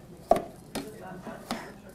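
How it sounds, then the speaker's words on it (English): Chef knife chopping bananas on a cutting board, three distinct knocks spaced about half a second apart, moderately close and quiet, with no voices. "I have a chef knife here and I'm just kind of chopping up some of these bananas"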